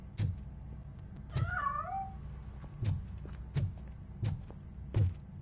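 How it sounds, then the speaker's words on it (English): A cat in the video game RoboCop lets out one drawn-out, wavering meow, set among several sharp knocks and thuds spaced through the scene. "That cat must be hiding inside."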